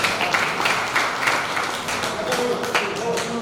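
Audience clapping along at a Hindi kavi sammelan poetry recital in Mhow, a dense, close patter of many hands beating in rhythm with a loud voice partly over it.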